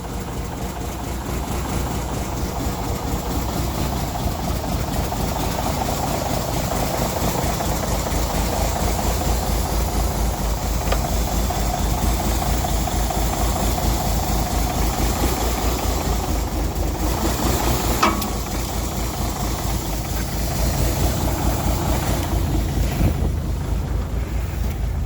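A 352 engine runs for the first time in about 20 years with a steady, loud, rough rumble that continues throughout, mixed with some wind noise.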